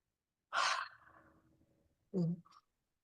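After aromatherapy oil in a grapeseed base is rubbed between the hands, a sharp, breathy intake is followed by a longer fading exhale, then a second short, nasal sniff-like breath close to the ear.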